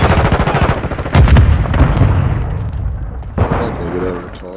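Bursts of AK-74 rifle fire in the shooter game Call of Duty: Modern Warfare 2, loud rapid shots in clusters with booming impacts, heard under someone talking.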